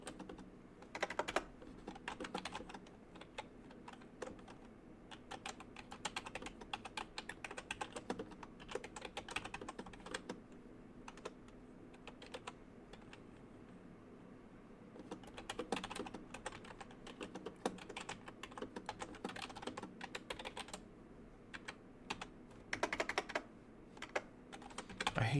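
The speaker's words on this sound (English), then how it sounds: "I hate the way this keyboard sounds." Keys on a computer keyboard clatter in quick, irregular bursts of typing, with short pauses between runs, close and fairly quiet in a trading session.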